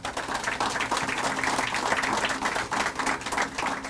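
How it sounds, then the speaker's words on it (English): Sustained crowd applause honoring a school official at a swimming pool groundbreaking ceremony, dense steady clapping from many hands continuing throughout without talk. "King a big round of applause."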